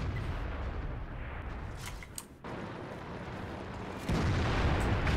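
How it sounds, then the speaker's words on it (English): A tank cannon fires in the game World of Tanks, a booming report over a continuous rumbling engine and battle ambience, with a sharp drop and then a louder surge of rumble. "We managed to get a shot on him without him getting a shot back at us."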